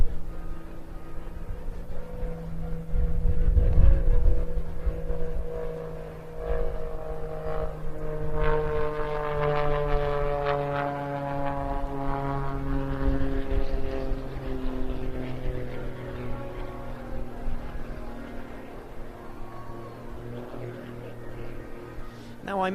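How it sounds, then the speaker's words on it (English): A highly modified Pitts aerobatic aircraft with an oversized rudder performs an inverted flat turn at the Bournemouth Air Festival, its propeller engine droning and rising in pitch, sweeping in loud and then fading, with a commentator speaking over it. "The aircraft in an inverted flat turn, that is all the rudder, making the aircraft turn through about 180 degrees."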